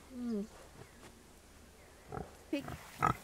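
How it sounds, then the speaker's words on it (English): Pigs on pasture give a few short grunts and squeals, fairly close, with a low-pitched call near the start and a quieter stretch in between. "I'm having a moment with the pigs."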